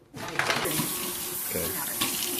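Warm water runs steadily from a kitchen tap for making bannock dough, a continuous close splashing rush that starts abruptly and carries on without talk.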